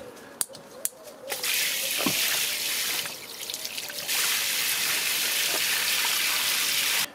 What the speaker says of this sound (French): maintenant on va rajouter un peu d'eau quand même pour que ça tombe